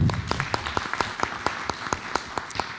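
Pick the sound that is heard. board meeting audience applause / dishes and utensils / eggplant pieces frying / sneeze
board meeting audience applause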